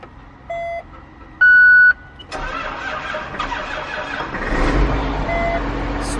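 Electronic beeps sound twice, then an old John Deere 8430 tractor's heavy diesel engine cranks and catches, settling into a loud, steady rumbling idle.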